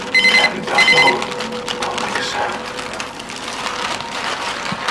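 A telephone rings in two short electronic bursts near the start of a scene in a Bengali TV mystery drama, followed by a noisy room with faint background activity.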